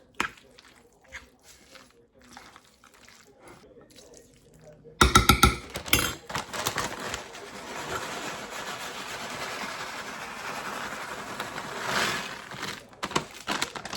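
Casserole ingredients mixed in a baking dish, a sudden onset of clattering utensil scrapes and clinks against the dish that continues busily and fairly close after a quiet opening stretch.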